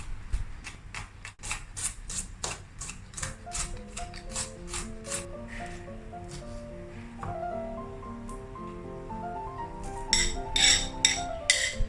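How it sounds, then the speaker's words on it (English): A stone mortar and pestle pounding chili paste ingredients of chili, shallots, garlic, belacan shrimp paste and anchovies: a brisk series of sharp, close taps and clinks, quiet overall, with a denser cluster of hits near the end. "Use the mortar and pestle to break up the ingredients."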